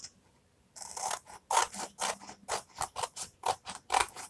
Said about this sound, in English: Let's just trim off the edges.